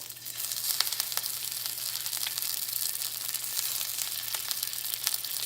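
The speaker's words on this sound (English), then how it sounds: "I'm just gonna sear these meatballs." Pork meatballs searing in a hot pan give a continuous loud sizzle with crackling spatters and faint tearing pops throughout.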